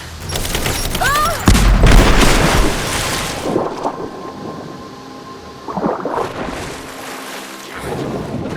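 A grenade blast in Rise of the Tomb Raider sets off a loud, broad boom that rumbles and decays over several seconds amid battle ambience, followed by further lower bursts and debris rumble.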